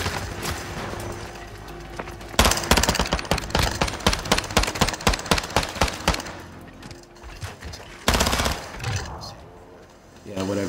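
Gunfire in the Modern Warfare II multiplayer match on the Shipment map, with loud rapid bursts of automatic shots and a few single cracks, pausing briefly before another volley, with a player talking over parts of it.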